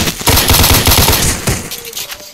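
A player's gun in a Roblox game fires a fast, loud burst of rapid shots up close, the rattling volley stopping briefly and then trailing off.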